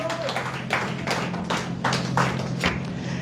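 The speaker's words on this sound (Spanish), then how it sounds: "Den el aplauso al Señor." Congregation applause during a Spanish-language church service, a few uneven bursts of hand claps and taps over a steady low hum, moderately close and without speech.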